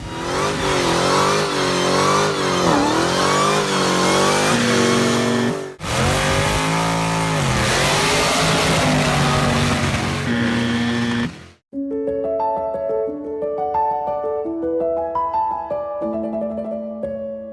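A loud 2001 Mercedes E320 race car engine revs hard and roars continuously at a 24 Hours of Lemons race, with a brief dip as it shifts before climbing again; a bright musical tone pattern follows.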